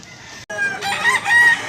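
A gamecock crows loudly and close in a poultry yard in Mantalungon, Cebu, one long drawn-out call after a brief break.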